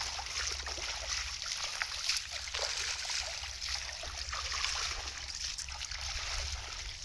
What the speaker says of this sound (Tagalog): Yun ang sapa dito sa Bagawinis.